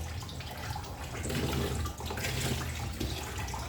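Water runs and drains from freshly watered potted plants, a continuous close splashing trickle that swells slightly in the middle and carries on steadily without talk.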